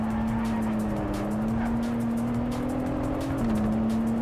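A Toyota Supra in the Project Cars 3 racing game runs a lap, its engine holding a steady, loud drone with a slight pitch shift and shifting tire noise, no talking.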